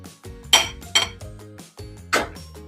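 A spoon clinks against a pot four times while lifting out noodles, the bright metallic knocks coming close and clear at an uneven pace with no voices.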